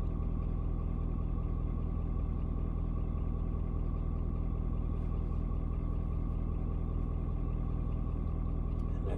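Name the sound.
Ford Super Duty 6.7 diesel engine idling after cold start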